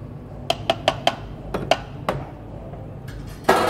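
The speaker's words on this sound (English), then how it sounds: "So I'm using a spoon for this." Metal spoon clinking against the side of a glass or bowl while mixing thick fresh cream for an orange sunset mocktail, about eight sharp taps in an uneven rhythm, close and clear, then a final louder clatter.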